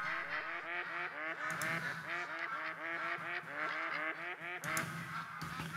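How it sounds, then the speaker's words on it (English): Ducks and geese in The Hunter: Call of the Wild honk and quack in a dense, continuous chorus of repeated calls, fairly quiet and steady, with a few sharper clicks near the end. "the sounds of ducks and geese and donkeys"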